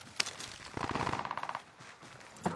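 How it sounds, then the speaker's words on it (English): Automatic gunfire in Call of Duty: Warzone 2.0 rattles in one rapid burst lasting under a second, with a couple of sharper isolated shots before and after, moderately distant. "Where was she shooting from, Adam?"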